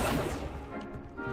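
Casting the Accio summoning charm in a Harry Potter video game makes a short whooshing rush with a crashing impact, close and fairly loud, and no voices.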